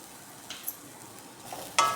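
Grated coconut with turmeric powder fries in oil in a pan for a crab sukka, giving a soft sizzle with a few light stirring scrapes and one sharper clink near the end.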